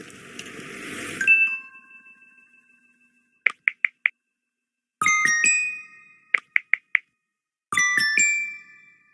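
Text message notifications in an otome visual novel game: a bright synthetic chime, then bursts of short bubbly plops and repeated rising multi-tone jingles, clean and alone against silence.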